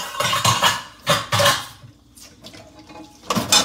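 A cooking pot is scrubbed during dishwashing at a sink, with bursts of scraping and clattering metal, clinks of cutlery and running water coming in uneven waves up close, fading briefly before picking up again.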